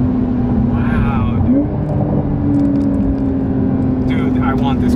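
Porsche 992 Carrera S driven hard, a steady loud engine drone with a rising gear pull heard from inside the cabin, road roar throughout and someone talking over it.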